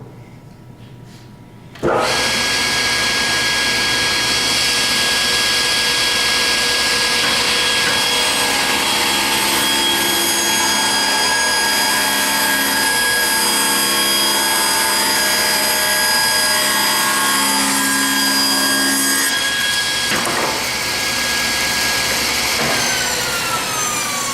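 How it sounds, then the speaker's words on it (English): A table saw spins up loud and close, then holds a steady high whine with a droning hum while its blade cuts through a wooden board, and the pitch shifts slightly under load before winding down. "turn the saw on and make the cut"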